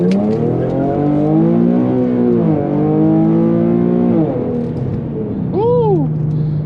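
An Infiniti G37 pulled hard under acceleration, engine note climbing loudly through the revs, briefly dropping at a gear change, then rising again before easing off, with speech mixed in.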